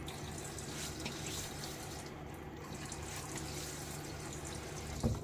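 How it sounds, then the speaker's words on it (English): A tap runs steadily into a sink while a face is rinsed with water during a wet shave, a soft continuous splashing stream with a small bump of splashing near the end. "Rinse my face."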